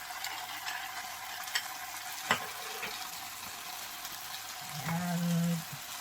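Squid frying in a pan with sweet chili sauce being stirred in, a faint steady sizzle with occasional utensil taps, followed near the end by a brief tonal squeak or scrape; no talking.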